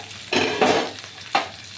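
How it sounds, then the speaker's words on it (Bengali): Green chilli, carrot and beans fry in oil, stirred with a few close, rasping scrapes over a constant sizzle, three distinct strokes in quick succession. "একটু নেড়ে নেব হ্যাঁ ভাজা ভাজা হবে"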